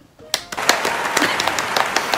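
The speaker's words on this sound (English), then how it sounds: "Clap." Hands clapping during an iPhone 11 Pro Max unboxing: a quiet moment, then a run of sharp, irregular claps close by, with voices in the background.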